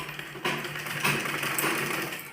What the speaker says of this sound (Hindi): इसी तरह हम दूसरी साइड सिलाई लगाएंगे।